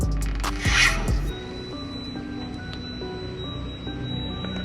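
Water fills the onboard tank of a Toyota 4Runner with a squishy, gurgling rush and a brief spray-like burst near the start, then settles into a steady hiss of air and water from the vent, close up with no talk.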